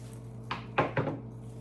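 Scissors snip through spider plant stems in two or three quick, soft crisp cuts, close up over a low steady hum.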